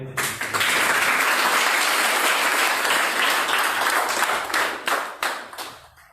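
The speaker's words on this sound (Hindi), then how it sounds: "अपने स्वागत के लिए जोरदार तालियां।" Loud, dense applause from an audience at a live leadership training session, sustained for several seconds before tapering into scattered claps near the end.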